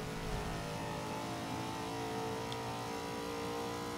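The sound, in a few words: Buick GNX engine revving in Forza 5 video game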